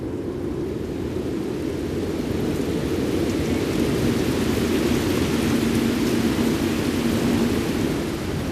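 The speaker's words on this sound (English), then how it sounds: "As the monsoon unfurls curtains of rain, a transformation begins." Monsoon rain pouring in Australia's far north, a dense steady roar of rainfall with low thunder rumbling underneath throughout, no voices.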